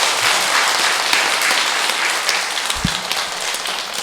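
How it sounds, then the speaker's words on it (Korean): A congregation applauds during a Catholic Mass celebrating vows and a silver jubilee, sustained loud clapping from a large group filling the church, steady throughout. "다시 한번 박수 부탁드리겠습니다."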